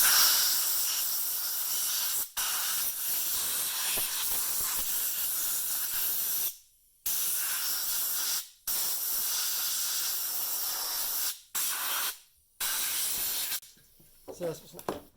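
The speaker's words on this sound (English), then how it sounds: "I use a little bit of compressed air." Short hissing blasts of compressed air blow debris out of a Stihl chainsaw during starter cord repair, several close, loud bursts separated by abrupt silent gaps.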